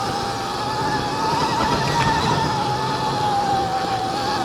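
Motorcycle tires skidding and squealing during a sharp U-turn, a steady continuous whine over broad road noise, loud and close throughout.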